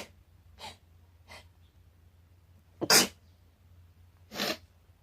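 Two sharp allergy sneezes ring out loud and close, the first near the three-second mark and the second about a second and a half later, with quieter sniffs and breaths before them over a low steady hum.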